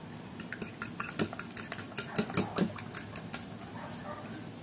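A utensil clinks and scrapes against a bowl while separated sardines and beaten egg are mixed for tortang sardinas, with irregular quick taps and knocks, close and moderately quiet, without speech.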